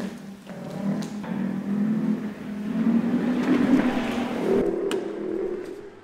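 A synthetic motorcycle-like engine note from an Inmotion V12 electric unicycle's sound mode rises and falls with throttle, droning and revving at moderate volume like a large-displacement motorcycle, without speech.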